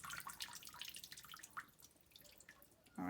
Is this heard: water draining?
yes